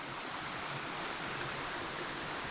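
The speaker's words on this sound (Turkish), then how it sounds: "Böyle güzel bir dere kenarı bulduk." A stream runs past a creek bank in a damp beech forest, a steady broad rushing wash of water that stays even and close throughout, with no voices.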